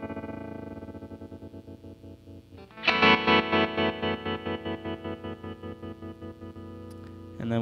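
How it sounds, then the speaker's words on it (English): Distorted electric guitar chords through a Boss GX-700 effects processor, pulsing with a rhythmic tremolo, the volume chopping up and down in a steady beat. "So we choose different kinds of tremolos."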